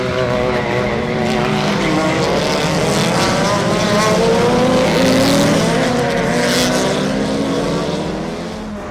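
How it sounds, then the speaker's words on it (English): Mitsubishi Evo race cars accelerate hard from the start at a Trinidad circuit race, engine revs climbing steadily and loud, with rising harmonics across the whole clip and no voices. "Wow! The acceleration of the Evos is incredible."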